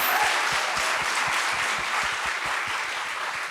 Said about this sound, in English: We can clap for Vote Save America.